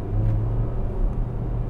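A Porsche Macan in Sport mode without a sports exhaust gives a low, steady engine and exhaust rumble from inside the cabin, fairly quiet and even.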